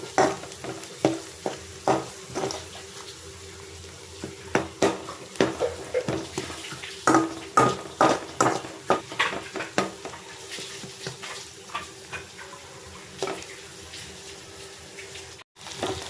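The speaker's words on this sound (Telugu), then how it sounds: "ఉల్లిగడ్డ మంచిగా ఫ్రై అయ్యేటట్టు ఇలా వేసుకుంటున్నాము" Sliced onions fry in a pan with coriander, mint, chilli powder and salt while a spatula scrapes and knocks against the metal in quick, uneven strokes over a soft steady sizzle, close by with no talk.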